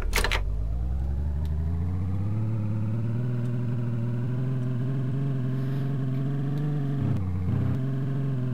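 Car engine in DayZ during donuts, a sustained revving drone that climbs in pitch, briefly drops near the end, then picks back up.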